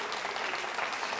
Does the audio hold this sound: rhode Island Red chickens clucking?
no